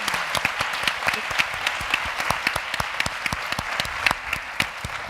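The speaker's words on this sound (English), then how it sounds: "let's give her a round of" Audience applauding a guest at a women's empowerment event: brisk, crisp clapping from a room full of people, steady and fairly close, with individual sharp claps popping out of the dense patter.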